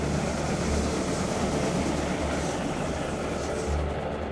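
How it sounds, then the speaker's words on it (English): An express train roars past at 120 km per hour as a continuous loud rushing rumble with rolling low thumps, close and unbroken for the whole stretch. "the express train travelling south at 120 km per hour screams past the front of the convoy"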